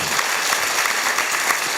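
Steady applause from a university student audience at a lecture in Gwangju, a dense wash of clapping that holds at an even level throughout.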